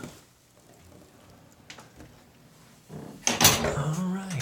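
A wooden trap door in an outdoor fort is pushed open, a few soft creaks and knocks followed by a louder clattering thump of wood near the end, with brief talk in the background.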